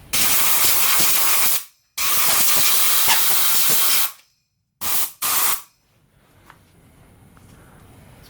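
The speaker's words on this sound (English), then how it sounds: "Blow it out with some compressed air." Compressed air blasts out of a 2-1/2 ton Shinn Fu (Pro-Lift) floor jack during a leak repair, sounding in two long loud hissing bursts and two short ones, then quiet.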